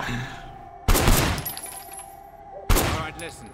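Two loud, sharp bursts of gunfire about two seconds apart at a firing range in the video game Sleeping Dogs, each ringing off with a decaying tail over a steady low background.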